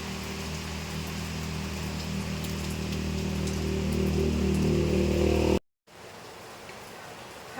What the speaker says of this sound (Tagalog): Naku, sobrang lakas ng ulan ngayon.